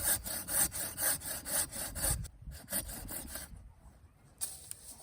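A bowsaw cuts through a coppice stem just above the mouth cut during felling, giving rhythmic back-and-forth wood-sawing strokes, close and fairly loud, which stop about halfway through, leaving quieter rustling.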